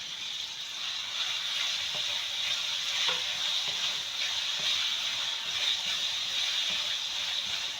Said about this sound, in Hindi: साथ ही इसके ये मसाला भी भून जाएगा और टमाटर भी घुल जाएगा।